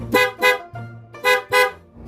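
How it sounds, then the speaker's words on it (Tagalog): A loud aftermarket motorcycle horn beeps four times in two quick pairs, with a low engine hum running underneath. "Loud horn."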